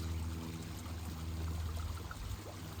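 Water trickling and pouring in a garden pond water feature, a steady, continuous splashing flow heard up close and alone, with no voices.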